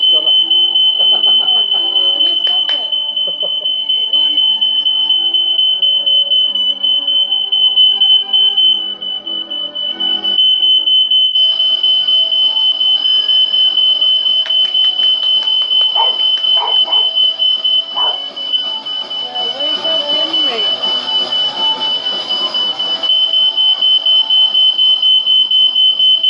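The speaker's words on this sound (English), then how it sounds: "The smoke alarm's gone off." A household smoke alarm shrills in a steady, piercing high tone through the whole stretch, with children's voices and clattering noise beneath it after a birthday song.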